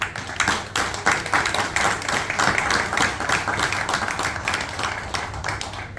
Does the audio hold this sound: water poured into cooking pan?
no